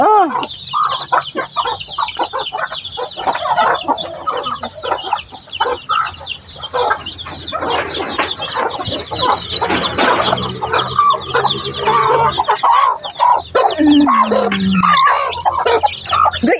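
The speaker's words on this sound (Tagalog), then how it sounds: "Ang dami kasi nating manok." Chickens and farm fowl cluck busily at feeding time, a dense, continuous chorus of close, overlapping calls with occasional louder squawks throughout.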